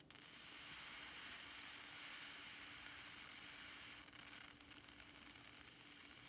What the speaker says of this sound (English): You can hear the water boiling off